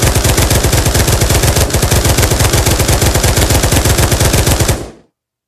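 M249 machine gun in Pavlov VR firing full auto, a rapid unbroken stream of loud, close shots that runs until the barrel overheats, then stops abruptly into silence.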